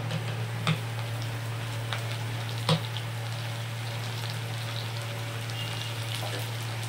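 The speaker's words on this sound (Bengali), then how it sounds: "দিয়ে ভালো করে ভেজে নেব।" Onion and potatoes fry for khichdi in a home kitchen, giving a steady low sizzle with faint crackles and a couple of sharp ticks. There is no talk, and a constant hum runs underneath.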